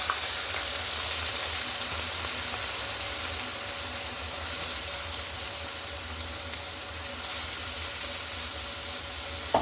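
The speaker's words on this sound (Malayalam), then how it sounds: "എണ്ണ നല്ലവണ്ണം ചൂടായിട്ടുണ്ട്. ഞാൻ അതിലേക്ക് സവാള ഇടാണ്." Sliced onions fry in hot oil in an iron pan, giving a steady, close, even sizzling hiss with no talking.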